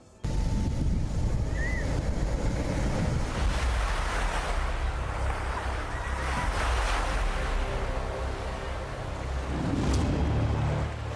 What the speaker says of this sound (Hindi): अरब सागर की लहरों को चीरते हुए